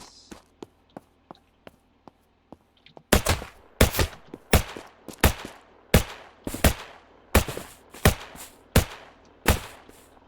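Gunfire from bandits shooting at the player in Unturned: a run of faint, evenly spaced ticks, then a series of louder, rhythmic shots roughly every half second, each with a short tail.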